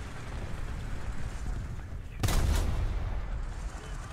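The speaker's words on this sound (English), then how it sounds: "He can definitely shoot me with his MG too" Machine-gun fire from a tank in War Thunder, a short loud burst near the middle of the clip rising over steady engine rumble and battle noise.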